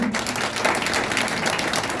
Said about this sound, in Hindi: जरा खड़ा हो जाइए, जोरदार ताली बजा के स्वागत करिए।